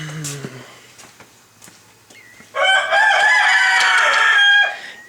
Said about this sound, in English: And unfortunately, I have a few roosters.